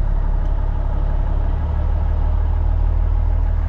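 A Cat 307SSR excavator engine runs at raised idle, a steady low diesel drone that holds even and fairly close for the whole stretch, with no talk over it.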